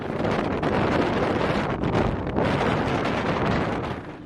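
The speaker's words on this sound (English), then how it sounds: "the gusts are more frequent, and have flipped around more to the kind of west-northwest and are getting a little more powerful" Strong, gusty wind roars continuously across the microphone while sailing off Baja Mexico, buffeting loudly with brief dips between gusts over a low rushing bed of water noise, no voices.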